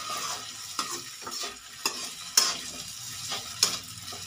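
Potato pieces for aloo palak sabzi are stirred and fried in a pan after cooking covered, with a steady close sizzle broken by several sharp scraping spoon strokes and no talking.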